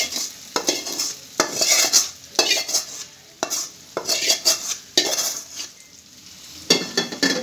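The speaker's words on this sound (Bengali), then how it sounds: "আর একটু কষিয়ে নিই 2 মিনিট।" Beef tripe being stirred and fried in a pan, repeated scraping spoon strokes in uneven bursts over a loud sizzle, close up and without any talking.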